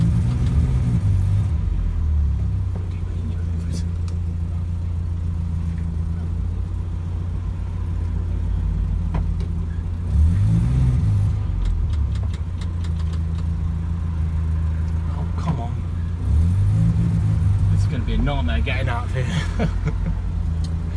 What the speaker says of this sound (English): What is it like to drive a classic car through a town like Oakham?